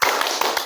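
A classroom of students claps in a rhythmic counting game, producing a dense, close wash of many hands clapping with a few accented beats spaced evenly through it.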